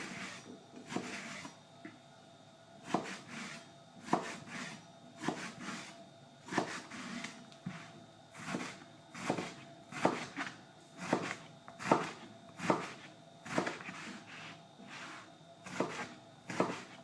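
A knife slices through aubergines on a cutting board in a steady series of sharp, close chops, roughly a dozen cuts at regular intervals, with a faint background hum.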